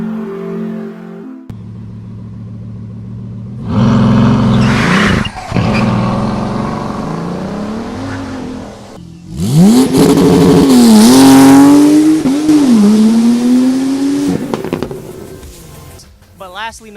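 Hot cars revving in sunny Southern California, engines roaring up and down in pitch through several loud, rising bursts, with voices over the engine noise.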